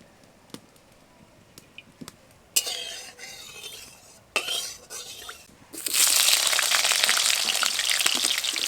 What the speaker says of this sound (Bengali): এখন আলুগুলোকে প্রথমে ভেজে নেব। তার জন্য কড়াইতে দিয়ে দেবো সরষের তেল।